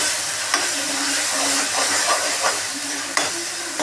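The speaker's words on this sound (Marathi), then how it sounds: "ते आपण सगळं यामध्ये टाकून घेऊ, आणि याला चांगला कलर येईपर्यंत आपण यामध्ये ते परतून घेऊ" Onion and ginger paste sautés in a pan, a continuous sizzle broken by a few sharp scrapes of a spoon, with no talking.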